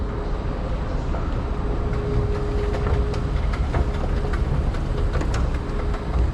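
A steady rumbling metro train running along at De l'Église station in Verdun, Montreal, with a constant low roar, faint squeals and clicks of the wheels on the rails.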